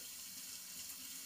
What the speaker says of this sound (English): running some water over there